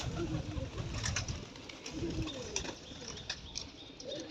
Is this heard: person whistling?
no